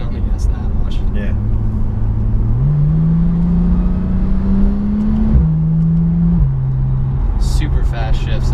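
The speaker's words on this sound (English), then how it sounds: "A little bit of the turbo noise coming in, and I wasn't even on the gas that much." A 2016 Porsche 911 Turbo S with PDK gearbox cruises under light throttle, its engine drone rising and stepping with shifts while a faint turbo whistle creeps in, steady and close inside the cabin, with talk over it.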